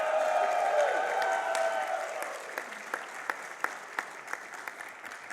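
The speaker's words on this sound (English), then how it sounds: "That was a healthy cheer." A live gaming-marathon crowd at Summer Games Done Quick 2018 applauds and cheers loudly in a sustained wash that slowly fades, leaving a few scattered hand claps near the end.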